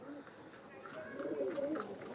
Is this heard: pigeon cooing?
yes